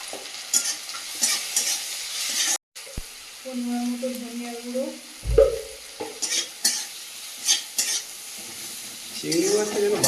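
Onions and shrimp sizzle steadily in a pan while a spoon stirs and scrapes through them, with clinks of utensils against the metal and occasional brief voices in the kitchen.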